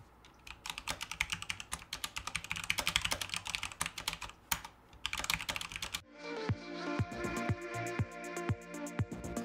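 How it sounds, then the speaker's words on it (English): Fast, continuous typing on a clicky mechanical gaming keyboard during a typing race, close up, with rapid keystrokes and a few louder clacks, no talking. "I'll do a typing race here to show you how it sounds"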